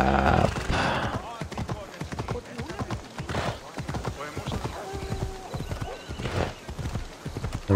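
Rapid rhythmic hoofbeats of a galloping horse in Assassin's Creed Odyssey, steady and prominent, with someone talking over them and a brief whinny mixed in.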